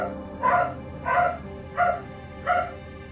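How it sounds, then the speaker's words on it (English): Several dogs barking in four distinct bursts, each about half a second long with short pauses between them, at moderate volume and fairly close, with faint yips mixed in and nobody talking. "Oh, my doggies are going doggy crazy again."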